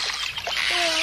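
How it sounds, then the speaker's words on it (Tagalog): Water rushes into a small rowing boat in an animated cartoon, a brief close splash and trickle with a voice calling out over it. "Ang lakas ang pasok ng tubig!"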